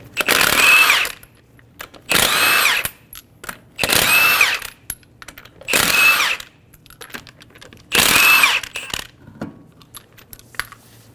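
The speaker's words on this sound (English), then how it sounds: "remove the 5 lug nuts." Five separate bursts of a pneumatic impact wrench spinning off lug nuts from a 2007-2011 Toyota Camry wheel with a 21mm socket, each loud whirring rattle about a second long, spaced by short pauses.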